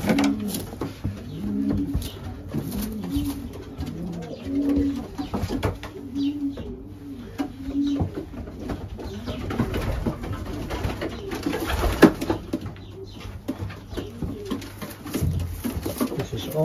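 Racing pigeons in a loft coo in repeated low, throaty phrases with steady background rustle and occasional wing or foot noises, fairly close, while someone talks intermittently over them.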